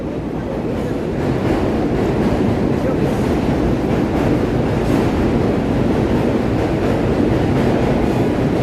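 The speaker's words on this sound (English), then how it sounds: "you're going to be able to hear the train" A New York subway train crossing the Manhattan Bridge rumbles steadily overhead for the whole stretch, a loud continuous roar and clatter of rail cars with a heavy low-frequency hum.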